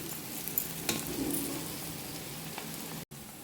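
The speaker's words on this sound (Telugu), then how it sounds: "ఇంక ఇప్పుడు మూత వేసుకోక్కర్లేదు మామూలుగా ఇలా వేగించేసుకోవచ్చు" Ivy gourd (tondakaya) fries in an uncovered pan with a soft, steady sizzle and crackle, broken by a few light stirring scrapes and a brief cut near the end, with no talk.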